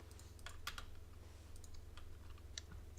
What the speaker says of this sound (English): on the rat-a-tat-tat keyboard, looking it up